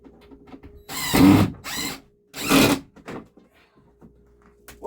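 A power drill drives screws into wooden wall cleats in a workshop, two or three short bursts of whirring close by, separated by quieter handling clicks.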